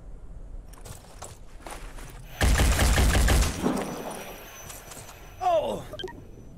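Bursts of automatic gunfire rattle in Phoenix Point, one dense volley lasting about a second and a shorter burst later, set against quieter combat effects and footsteps.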